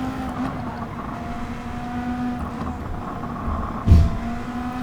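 An Audi RS5 DTM race car engine drones steadily in Gran Turismo 7 on the Sardegna circuit, holding a constant tone with a short louder surge near the end.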